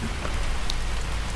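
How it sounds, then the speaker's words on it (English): Heavy pouring rain at a Tennessee shop where motorcycles are being unloaded, a dense, constant hiss of downpour drumming on surfaces, loud and unbroken with no talk. "It's freaking pouring raining."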